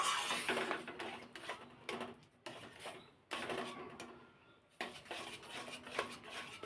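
Semolina and milk stirred in a metal pot: repeated scraping and clinking strokes in uneven bursts separated by short pauses, close and fairly quiet, with no voices.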